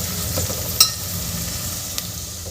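Chillies and ginger-garlic paste sauté in a pan for Maharashtrian masale bhat, giving a steady close sizzle with a few sharp stirring clicks and no talk.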